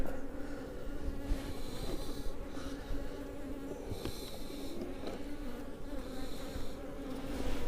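Honey bees buzz continuously in a styrofoam hive that has a honey super added. The hum is dense and even, close up, with no talking.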